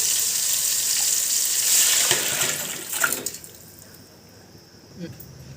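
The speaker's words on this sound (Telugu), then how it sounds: "ఇప్పుడు కలిపి పెట్టుకున్న చేపల పులుసుని ఇందులో యాడ్ చేసుకో" Tamarind fish broth poured into cooked tomatoes in a hot pan, a loud rushing sizzle that fades to a quieter bubbling, with a couple of clinks near the end.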